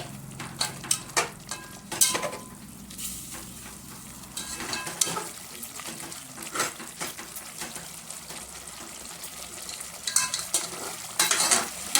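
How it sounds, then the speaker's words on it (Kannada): Ground masala fries in oil in a pan for soya chunk biryani, giving a steady close sizzle broken by frequent scraping stirs and the clink of a spoon against the metal. "ಚೆನ್ನಾಗಿ ಫ್ರೈ ಆಗಲಿ"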